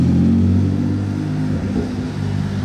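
A Porsche GT2 RS with a carbon bonnet and Swiss plates holds a steady, loud mid-low engine note that surges slightly as it revs, then settles into a continuous rumble.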